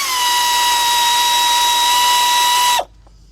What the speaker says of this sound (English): shallow socket 3/8 drive with my air ratchet